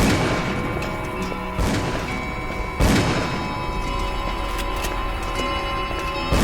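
Gunfire and explosions in the video game Call of Cthulhu: Dark Corners of the Earth, with sustained rattling shots and two sharp, heavy blasts breaking through a constant loud din of combat.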